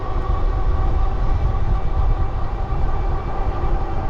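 A train rolls past close by a rail trail, a loud continuous low rumble and grinding roar of wheels on track that holds steady throughout, with no voices.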